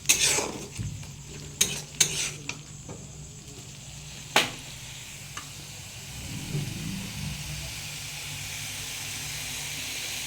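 Spice paste with a splash of water fries in a little oil while a spatula stirs it: a steady, soft sizzle runs throughout, broken by several sharp metallic clinks and scrapes early on, and then it simmers more quietly.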